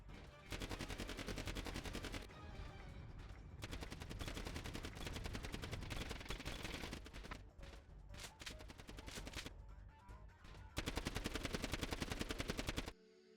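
Rapid automatic gunfire in the VRChat video game, long continuous bursts of shots with brief pauses between them, loud and sustained.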